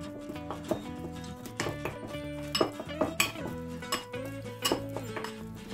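Pork fat being mixed with paprika, salt and spices in a bowl, heard as repeated clinks and scrapes of a utensil against the dish in an uneven rhythm, close and fairly quiet with no talking.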